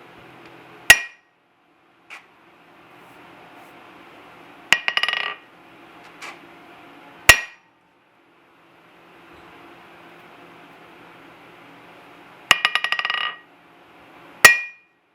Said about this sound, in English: Let's see if I get a dent from using a lighter weight hammer.